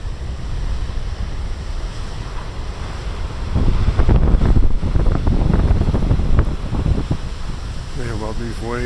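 Big ocean waves crash and surge with heavy wind buffeting the microphone, a continuous roar that swells midway, with a voice briefly near the end.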